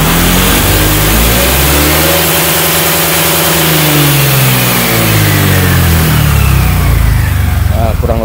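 A Honda Vario 125 scooter engine revs loudly and close by on its stock pulley, with a worn front pulley, before a PCX 150 pulley is fitted. The engine note rises, dips and climbs again in a continuous, strained whine.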